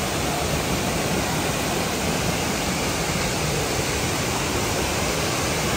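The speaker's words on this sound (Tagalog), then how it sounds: "nakarating na tayo dito sa Hulugan Falls" Hulugan Falls in Laguna pours down in a constant, dense broadband roar, loud and unbroken, with no other sounds standing out.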